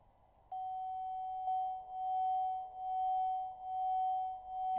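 A Morse CW signal tone spotted through N4PY radio software sounds as a steady pure beep that switches on, then wavers and warbles in slow, regular pulses; quiet and alone, with no talking.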